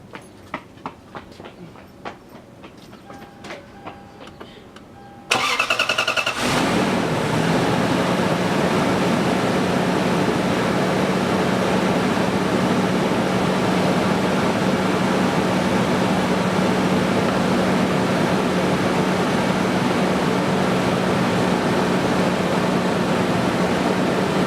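A 1996 Lexus LS400 engine cranks and catches with a rush of sound, then settles into a loud, steady idle that runs on unbroken, following a quiet stretch of faint handling noises.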